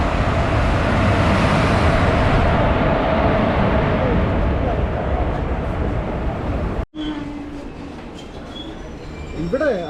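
A train pulls into a station, bound toward Trivandrum: a loud, continuous rolling rumble of wheels and carriages that cuts off abruptly into quieter platform ambience, where a rising wheel squeal appears and voices are faintly present.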